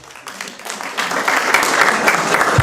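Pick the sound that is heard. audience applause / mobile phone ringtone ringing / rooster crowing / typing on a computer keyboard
audience applause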